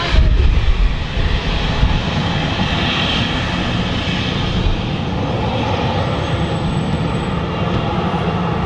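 A Ryanair airliner at Manchester Airport roars with a steady, loud jet engine noise that holds for the whole stretch, broad and sustained with no talking over it.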